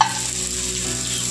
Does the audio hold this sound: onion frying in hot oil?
yes